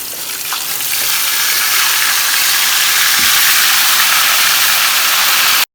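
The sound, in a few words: mutton tikka deep frying in hot oil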